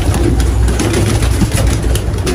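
Pigeons coo close by in a loft, a low continuous burble with a steady engine-like hum underneath.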